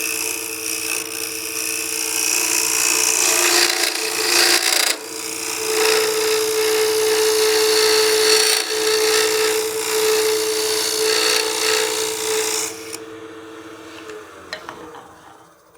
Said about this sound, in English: I'm going to switch back to my smaller scraper.